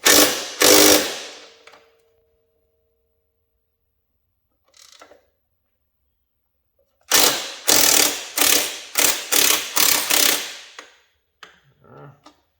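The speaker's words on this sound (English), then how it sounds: "Might have to use the wrench a little bit here." A ratchet wrench working on the front suspension bolts of a Yamaha Raptor ATV, with close clicking ratchet bursts, two at the start, then a rapid series of repeated cranks after a quiet gap.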